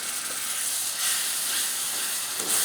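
Spice mixture and water for a chicken and jackfruit curry sizzling in a cooking pan, a bright steady hiss with slight surges, close and alone.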